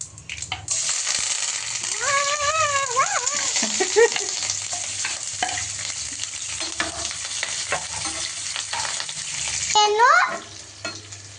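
Onion, mint, green chillies and curry leaves frying in a pan at home, a continuous sizzle with repeated spoon scraping and stirring, while brief warbling electronic tones sound twice in the background.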